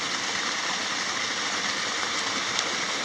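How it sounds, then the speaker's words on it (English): Small desert waterfall running after rain in Joshua Tree National Park, a steady broadband rush of falling water that stays even and continuous throughout, with no voices. "desert waterfall. This probably doesn't happen very often."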